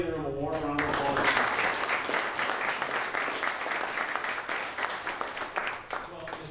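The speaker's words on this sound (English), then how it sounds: "Let's give everybody in the room a warm round of applause." Audience applause fills a room at a recognition ceremony for certificate recipients, steady dense clapping lasting several seconds, with some voices mixed in near the start.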